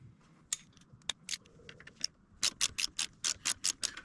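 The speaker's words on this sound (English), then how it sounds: "Take off the bolts. Use an extension." A ratchet on an extension loosens bolts underneath a 2023 Harley-Davidson Low Rider ST motorcycle, with sharp metallic clicks that come scattered at first and then settle into a rapid, evenly spaced run of ratcheting strokes, close and alone.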